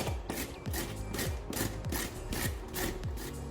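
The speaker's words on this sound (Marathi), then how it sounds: "मी मोठी किसणी घ्यायची छान किसून घ्यायची" Carrots rubbed over a large grater in a home kitchen, a close, rhythmic scraping repeated in steady back-and-forth strokes, with no talk over it.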